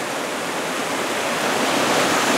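Cataract Falls near Fairfax, California pours in a steady, loud, broadband rush of falling water, close and unbroken.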